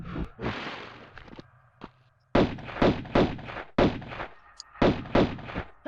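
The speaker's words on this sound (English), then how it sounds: "let's take them out with our pistols." Lara firing her pistols at enemies in Tomb Raider 1, a burst of sharp, punchy game gunshots in a rapid, even rhythm, loud and close, after a few softer thuds.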